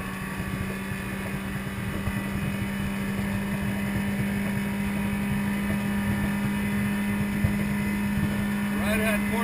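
A 1994 Alumaweld 18-foot Intruder motorboat's engine drones with a steady hum that slowly builds in strength as it accelerates, mixed with water and wind noise and no clear speech.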